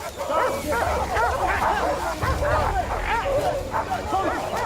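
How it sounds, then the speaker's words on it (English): Several dogs bark and yip excitedly at a pig in rapid, overlapping bursts, fairly close, with people talking underneath. "The dogs are going crazy."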